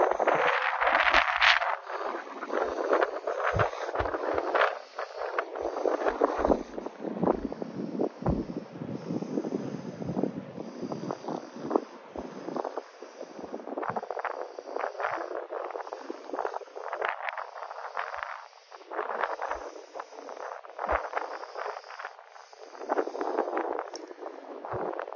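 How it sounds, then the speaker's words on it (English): Strong wind buffets the microphone on the Maspalomas sand dunes, a steady broadband rush with gusty surges throughout, loud and close, with no talk. "Very windy here. Kind of worried about the audio on the feed."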